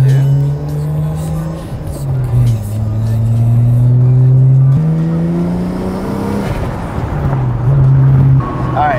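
A Toyota JZX90 sedan accelerates through the gears from inside the cabin, the engine note rising and dropping with each shift, loud and close, briefly revving near the end.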